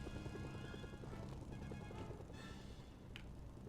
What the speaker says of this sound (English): as distracting as this helicopter is, I'm not going to shoot at it with an AK-47